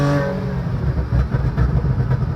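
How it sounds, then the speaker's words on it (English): A 2014 Porsche Cayman's 4.25-litre flat-six engine revs sharply, then burbles and pops at idle in short bursts, loud and close. "The noises this car makes is truly incredible."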